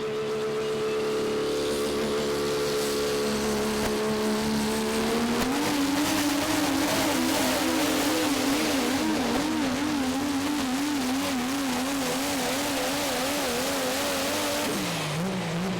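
Cummins 6.4 diesel drag truck making a pass at a drag race in Fredericktown, Ohio: a loud, steady engine roar that climbs in pitch as it accelerates, wavering through the run, then drops near the end.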